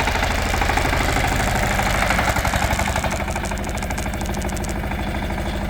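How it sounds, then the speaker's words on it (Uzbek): An AgriGlobe 180 mini tractor engine idles nearby, a loud steady rapid chugging with a faint knock that holds evenly throughout. "mini traktorimiz"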